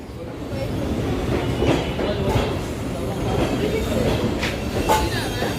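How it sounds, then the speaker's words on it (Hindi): Train pulls into a station platform with a continuous loud rumble and rhythmic wheel clatter, and faint squeals and voices rising over it now and then. "आगे देख के चल, ट्रेन आ रहा है"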